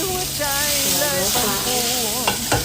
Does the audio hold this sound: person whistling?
no